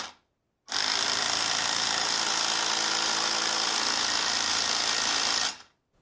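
Impact gun tightening a wheel bearing hub nut on a PT Cruiser, one loud continuous burst of rapid hammering rattle lasting about five seconds, starting and stopping abruptly, close up.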